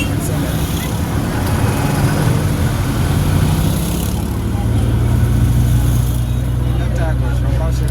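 A car engine hums and rises in revs as the clutch is let out during a driving lesson in Guinea, with road traffic noise around it and an instructor talking over the steady rumble.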